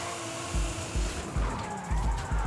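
Car tires skidding and squealing in a handbrake drift in Forza Horizon 5, a supercharged 500 HP Nissan Fairlady Z, with pulsing engine revs and rhythmic low thumps under a continuous loud screech.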